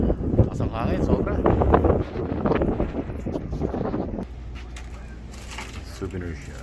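Strong wind at Hoover Dam buffeting the microphone in rough gusts, loud and blustery, with people talking over the first part before it eases to a steadier rush.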